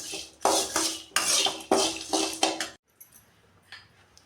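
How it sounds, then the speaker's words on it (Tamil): Cashews and poha dry-roasting in a pan, stirred with a metal spoon in quick rhythmic scraping bursts that rattle against the pan, then stopping abruptly and leaving faint quiet noises. "கொஞ்சம் லைட்டாக வறுத்து எடுத்தாலே போதும்."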